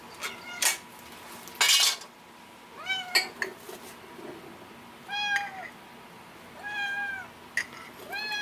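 A cat meows repeatedly in a home kitchen, several drawn-out calls spaced across the stretch, mixed with clinks of cutlery and dishes and a brief sharp clatter.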